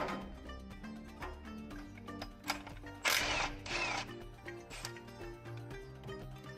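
Ratchet wrench removing bolts during timing belt and water pump work on a Toyota Hilux engine, giving repeated clicking ratchet strokes in uneven bursts with a couple of louder metallic rasps, close by and without speech.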